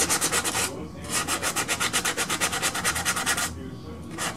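Hand sanding of a refinished Marlin 336 wooden rifle stock with 220 grit sandpaper: close, rapid back-and-forth rasping strokes in a steady rhythm, broken by two short pauses.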